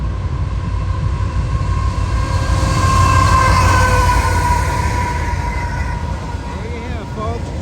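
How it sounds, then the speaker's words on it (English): Two autorack freight trains pass each other at a meet in Savannah, New York, a loud, steady rumble of wheels and rolling cars lasting the whole stretch, with squealing metallic tones rising over the roar. "A train meet in Savannah, New York."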